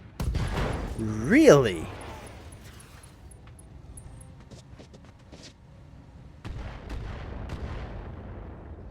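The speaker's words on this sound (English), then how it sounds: "here go those missiles in on the Vulcan" Missiles slam into a Vulcan mech in the RogueTech battle game, a loud burst of booming impacts early on that fades into a low rumble, with a brief voice in between.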